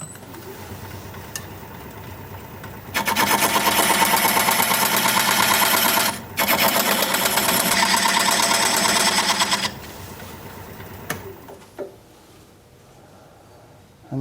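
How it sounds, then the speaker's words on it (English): A wood lathe cuts a tenon with a diamond point tool, giving a loud, steady buzzing chatter for several seconds that pauses briefly, resumes, then drops back to the motor's lower hum. "I'm going to use this diamond point tool to straighten up the sides of the tenon"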